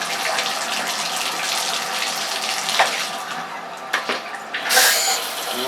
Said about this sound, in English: Let's go ahead and turn on the shower.